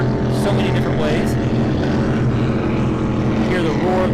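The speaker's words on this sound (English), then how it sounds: "Hear the roar of the motors as they go past our spot here." Racing powerboat motors roar past at a beach waterfest, a loud, dense engine drone holding steady throughout with a rising and falling harmonic sweep near the end.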